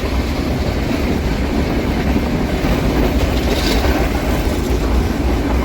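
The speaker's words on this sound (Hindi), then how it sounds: "जैसे जैसे ट्रेन हमारी कुन्नूर के पास पहुंच रही है" The Ooty toy train on its Mettupalayam to Ooty mountain line nearing Coonoor, a loud, steady rumble of wheels and carriages heard from on board with a faint rhythmic clatter.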